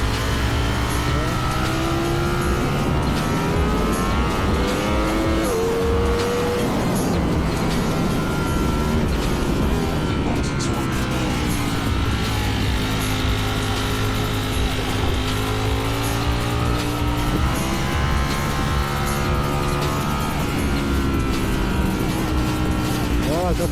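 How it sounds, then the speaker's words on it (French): A Ducati Streetfighter V4S's V4 engine roars continuously while riding, its pitch rising and falling through gear changes over steady wind rush, loud and close throughout. "Tu as pu constater un petit peu la sonorité du V4"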